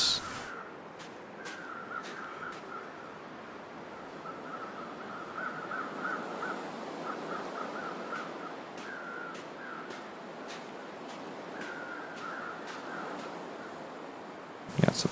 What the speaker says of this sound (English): And those birds are loud.